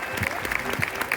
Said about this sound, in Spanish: Bueno, pues un aplauso para Almudena.